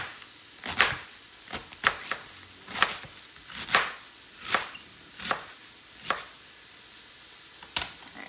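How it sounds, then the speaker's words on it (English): A knife shreds cabbage on a cutting board for fish tacos, about a dozen crisp, separate chops at an uneven, unhurried pace, close and clear with no talking. "So just cutting it into nice shreds."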